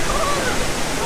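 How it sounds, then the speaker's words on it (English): The La Fortuna waterfall in the Costa Rican jungle roars as a steady, broadband rush of falling water, loud and unbroken for a moment. "We're really excited to see this waterfall."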